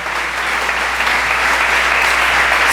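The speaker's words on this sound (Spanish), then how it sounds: "Un aplauso al Señor." A church congregation claps together in sustained, dense applause at a Spanish-language worship service, loud and steady throughout with no break.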